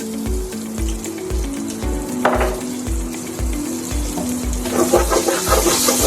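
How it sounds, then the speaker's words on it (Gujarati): Urad dal sizzles and crackles in hot oil over high flame, a steady frying hiss over a repeating low thumping beat. "એકદમ સરસ એને સાતળી લેશું. હાઈ ફ્લેમ પર જ કરશું"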